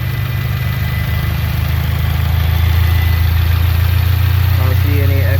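A 2022 Subaru WRX engine idles steadily after its drive belt was replaced, a loud, close, even drone with a low hum and no change in pitch, and a person speaks briefly over it.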